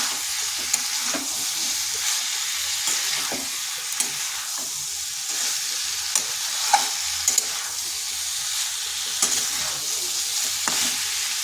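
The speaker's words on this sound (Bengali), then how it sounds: "এটা ভালো করে কষাতে হবে যাতে এই সবজির মধ্যে মশলাটা ঢুকে যায়" Cauliflower and mixed vegetables sauté with spices in a pan, an even hissing sizzle carrying over the whole stretch, punctuated by light scraping and tapping stir strokes, close and steady, no speech.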